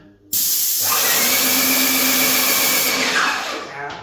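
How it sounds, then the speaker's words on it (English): A loud, steady hiss of an airless paint sprayer bursts on abruptly and holds for about three seconds before tapering off, close by. "We're going to do the first pass with the spray gun."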